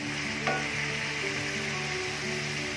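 Chicken pieces frying in a pan for Mongolian chicken give a steady close sizzle with occasional stirring scrapes, over a soft tonal hum in the background.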